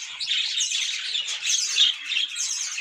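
Small pet birds chirp and tweet continuously in a dense, high-pitched chatter, fairly close, with no voices.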